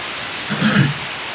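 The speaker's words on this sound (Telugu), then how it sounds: "వర్షం అయితే విపరీతమైన వర్షం" Very heavy rain pours steadily in Chhattisgarh, a dense, even roar with a brief low rumble in the middle and no voices.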